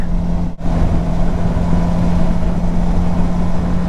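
A Suzuki V-Strom 650 motorcycle rolls along a bumpy road in Ecuador, a steady loud engine and road rumble under wind noise, broken by one brief dip near the start.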